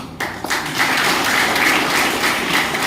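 A crowd applauds loudly and steadily, many hands clapping together in a continuous wash of sound.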